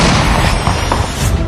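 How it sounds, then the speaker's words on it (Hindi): A car packed with explosives is blown up by security forces, a loud sustained booming blast with heavy low rumble and crackling debris that fills the whole stretch, no voices. "एक धमाके के साथ ही विस्फोटक की पूरी खेप नष्ट हो गई"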